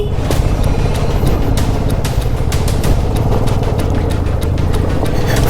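A motorcycle engine running hard on a rough trail while its wheel is stuck, a loud steady churning drone with rattling and crackling throughout.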